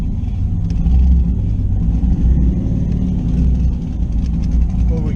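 A twin-turbo third-generation Camaro makes a loud, sustained low engine roar on a drag run, a steady rumbling drone under the strain of acceleration with no clear pauses.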